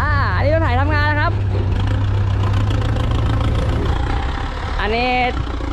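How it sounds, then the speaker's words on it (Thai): A Cat 313GC excavator runs at a work site, its engine droning steadily up close beneath someone talking over it. "อันนี้รถไถทำงานนะครับ"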